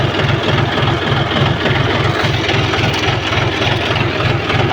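A tractor engine runs steadily at close range, its heavy low rumble pulsing in an even rhythm while an automatic seed drill sows chickpeas between tall pigeon pea plants in a field.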